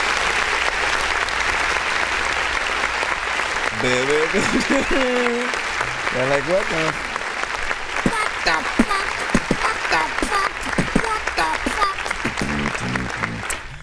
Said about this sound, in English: let me press the clap button